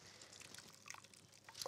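Wet grated potato squeezed by hand, releasing faint trickling and dripping liquid close by, quiet and intermittent with a slightly louder squelch at the end.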